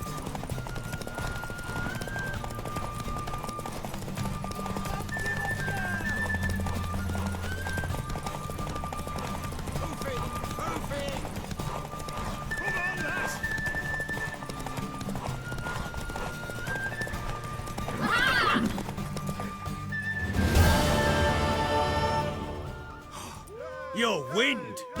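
A horse gallops in a race in The Witcher 3: rhythmic hoof clip-clops run under game music and voice sounds, a whinny rises near the end, and a burst of louder noise follows before it settles.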